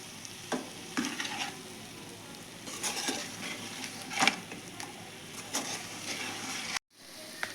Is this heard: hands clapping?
no